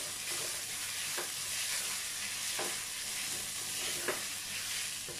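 Turmeric, chillies and curry leaves fry in a pan with a steady hiss and sizzle, while a spoon scrapes and stirs through them in a few soft, irregular strokes, close and fairly quiet.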